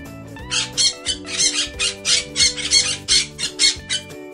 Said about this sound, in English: Parrots are vibrant and intelligent birds with colorful feathers.